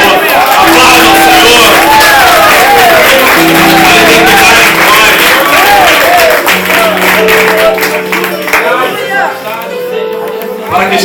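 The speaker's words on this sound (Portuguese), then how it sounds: "dê uma salva de palmas ao nome do Senhor" A large church congregation claps and cheers loudly and continuously, with whoops and shouts mixed into a sustained wall of applause alongside a preacher's speaking voice.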